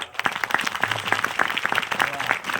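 Audience at a guru-tradition gathering bursting into applause, with a dense, steady patter of many hands clapping, loud and close for a few seconds.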